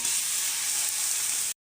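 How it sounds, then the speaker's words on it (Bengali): Onions frying with a pinch of salt in a pan, a steady, loud, bright sizzle that holds evenly for about a second and a half before cutting off abruptly. "পেঁয়াজটা ভাজতে ভাজতে সামান্য পরিমাণ লবণ দিয়ে নিব যাতে পেঁয়াজটা ভালো মতন ভাজা হয়"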